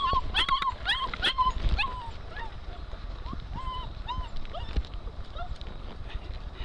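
A puppy on its first river outing whimpers and yips in high, wavering cries, several close calls in quick succession at first and then sparser, over rushing water noise.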